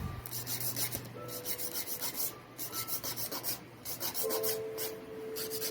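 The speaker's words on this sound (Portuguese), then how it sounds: "Lixa em pé, quero essa unha bem redondinha." A nail file shaping an acrylic nail gives close, rhythmic rasping strokes, a steady back-and-forth scraping repeated many times without speech.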